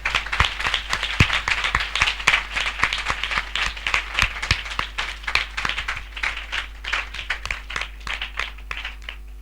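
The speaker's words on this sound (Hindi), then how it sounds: "हम जोर से तालियों से उनका स्वागत करें" An audience at a spiritual passion assembly claps loudly and steadily for several seconds, a dense, sustained round of applause with no talking over it.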